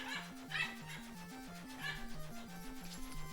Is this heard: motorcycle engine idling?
no